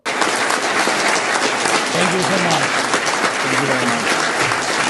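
Standing ovation in the Dutch parliament for a visiting Ukrainian figure, dense sustained applause from a large crowd filling the whole stretch at steady loudness, with a faint voice or tonal murmur briefly audible underneath.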